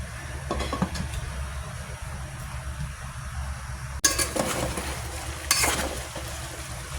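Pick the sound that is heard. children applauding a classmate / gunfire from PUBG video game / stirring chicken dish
stirring chicken dish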